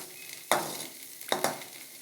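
Dried fish (maasi) being sautéed in a pan makes a low background sizzle, broken by two or three sharp scraping stirs, each a quick burst.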